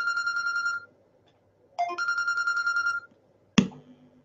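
A telephone ringtone for an incoming call plays as two bursts of rapid repeating electronic beeps separated by a pause, loud and close, followed by a single sharp click.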